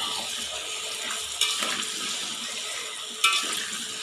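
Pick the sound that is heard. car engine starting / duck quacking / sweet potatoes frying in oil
sweet potatoes frying in oil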